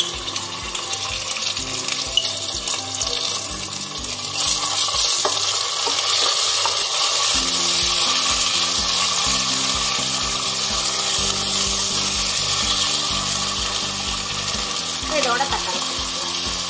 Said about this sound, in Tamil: இப்போ வந்து இஞ்சி பூண்டு வெளுத்து சேர்த்துக்கலாம்